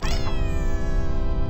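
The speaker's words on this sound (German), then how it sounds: "Das ist eine interessante Katze auf jeden Fall." A cartoon cat in a Flash video game lets out one loud, drawn-out meow that rises and then slowly fades.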